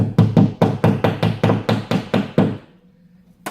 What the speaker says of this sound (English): Now hammer it.